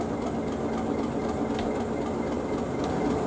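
A sound-modded Class 37 diesel locomotive in the Trainz simulator rumbles with a steady, heavy engine drone and faint rail clatter, continuous and even with no talking.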